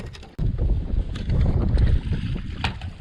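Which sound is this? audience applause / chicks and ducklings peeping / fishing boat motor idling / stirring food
fishing boat motor idling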